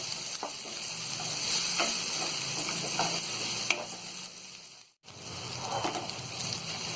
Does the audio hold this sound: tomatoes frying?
yes